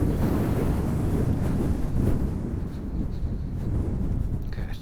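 Strong wind buffets a microphone in a continuous, loud, roaring rumble outdoors beside a river, steady throughout with no other clear sounds.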